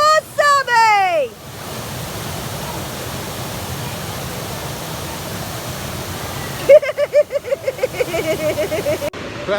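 Water rushes steadily down a natural waterfall slide in the Lake District, a loud broadband roar that fills the middle of the clip, with excited voices shouting before and after it.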